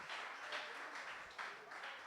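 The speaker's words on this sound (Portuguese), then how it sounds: "pode aplaudir ao Senhor?" A church congregation applauding, a steady, fairly faint wash of many hands clapping at once with slight swells, with no voices over it.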